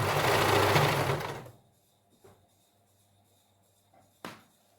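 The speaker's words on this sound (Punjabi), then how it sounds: "ਇਹਦੀ ਟੌਪ ਸਿਉਣ ਰੱਖ ਕੇ ਲਾ ਰਹੇ ਆ ਜੀ" Sewing machine running a top seam on a suit, a steady loud mechanical whir for about a second and a half, then stopping, followed by quiet handling clicks.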